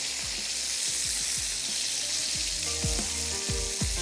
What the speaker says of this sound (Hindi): मैं थोड़ी सी हरी मिर्चें भी काट लेती हूँ और इसको भी हम ग्रिल कर लेंगे